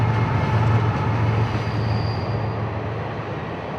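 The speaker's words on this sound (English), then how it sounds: "the circus train glided into the Folkston turnout" Ringling Bros. circus train, kept up by Feld Entertainment, glides through the Folkston turnout as a loud, steady rolling rumble of rail cars that eases off only slightly as it passes.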